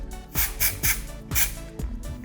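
Texture spray is sprayed onto cooled, freshly curled fine blonde hair in several short hissing bursts, close and fairly loud, separated by brief pauses.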